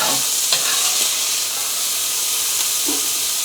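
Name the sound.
sizzling of a batch frying in a pan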